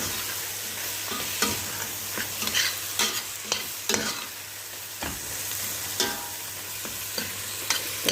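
Tomato paste, black lemon and onion are stirred in a pan while cooking chicken with eggplant, giving a low steady sizzle punctuated by repeated sharp utensil scrapes and clacks.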